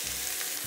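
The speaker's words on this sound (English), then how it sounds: "Our bacon fat has melted, so we'll put our onion in" Onion sizzling in melted bacon fat for a corn and shrimp chowder, a brief steady hiss of frying close up with no talking.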